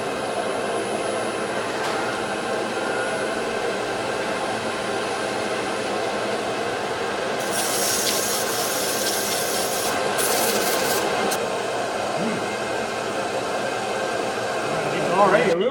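Honey locust end-grain wooden bowl spinning on a lathe while 320 grit sandpaper rubs against it, a steady continuous rasping whir with a motor hum, a brighter hiss swelling midway.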